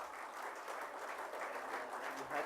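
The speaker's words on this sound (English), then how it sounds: "And could we please welcome him with a huge round of applause." Steady applause from guests at an event, welcoming a speaker to the stage; even, continuous clapping heard at moderate distance, fairly faint throughout.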